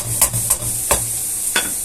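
Garlic sautés in a pan with a light, steady sizzle and four or five sharp scrapes of a spatula against the metal, close by and with no voices.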